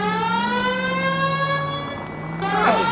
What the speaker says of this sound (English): People might move out of the way quicker if you use the siren.